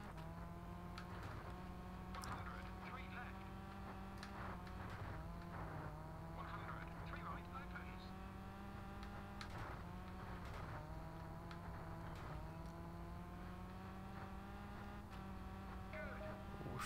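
A rally car in the Xbox game V-Rally 3 drives flat out with a steady engine drone and occasional sharp clicks and scrapes from the surface.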